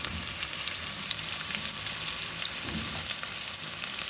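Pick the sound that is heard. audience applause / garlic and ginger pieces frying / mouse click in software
garlic and ginger pieces frying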